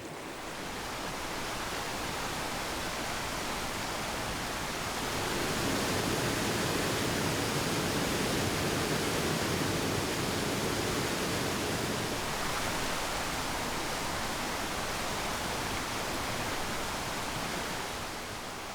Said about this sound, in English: little brooks are transformed into rushing waterfalls